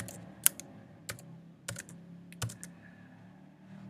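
A name is typed into an online registration form on a computer keyboard: a few sharp, sparse key clicks spaced irregularly over a quiet room background, with no voices.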